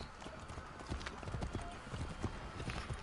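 Horse hooves clip-clop steadily on the ground in the video game Assassin's Creed 3, a close, rhythmic trot with faint background ambience and no talking.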